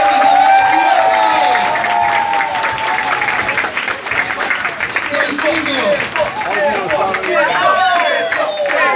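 A crowd breaks into loud, sustained applause mixed with cheering and chatter, many voices whooping and talking through the clapping from close by.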